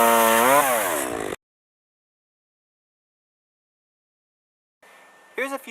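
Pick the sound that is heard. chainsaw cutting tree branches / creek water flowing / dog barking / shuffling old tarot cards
chainsaw cutting tree branches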